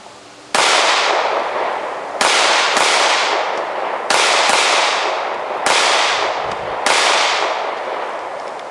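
Smith & Wesson M&P Shield 9mm pistol shooting, six sharp loud shots spaced about a second or two apart, each followed by a brief ringing decay, with no talk.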